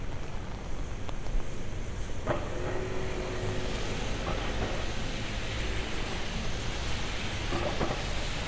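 Broadband rain hiss over a city street in Midtown Manhattan on a Sunday night, steady and loud, with occasional faint knocks and a brief tonal hum partway through.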